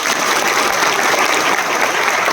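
An audience at a tribal rights conference in Junnar breaks into dense, continuous clapping. The applause is loud and steady throughout and fills the hall with no voice over it.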